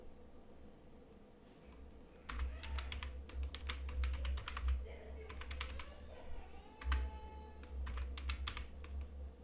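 Rapid keystrokes on a computer keyboard while a new password is entered on a Kali Linux system, arriving in quick bursts with brief pauses, close and clear over low background hum.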